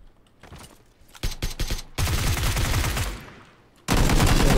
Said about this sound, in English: A lot of shots on the other side of that hill.